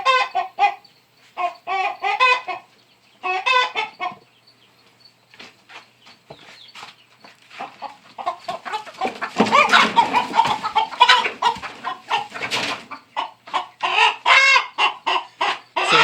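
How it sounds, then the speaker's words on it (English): Turken chickens, a black meat-bird project flock on a farm, cluck and murmur through bursts of fowl calls, louder and denser in the middle stretch, with brief quiet gaps between calls. "these are my project Turkens."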